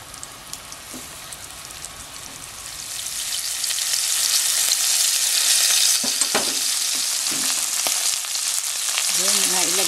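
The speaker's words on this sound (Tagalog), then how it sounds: "Ang gagawin natin, ipa-fry natin itong beef. Nilagyan lang natin ito ng 1 tablespoon of cooking oil." Beef sizzling and frying in a tablespoon of cooking oil in a cooking pot for beef stroganoff, a steady loud hiss that swells midway, with occasional stirring scrapes and clinks.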